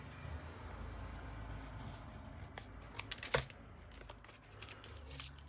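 Scissors trimming paper for cluster tags, a few quiet, close snips in a short cluster over a faint background hum.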